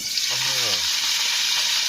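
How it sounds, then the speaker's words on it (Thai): Steady loud sizzling of vegetable fern frying in hot oil, a broad hiss filling the whole clip with a brief low tonal sound early on. "มันน่าจะร้อนแล้วทุกคนเดี๋ยวเราใส่ผักกูดเข้าไปเลยนะครับผม"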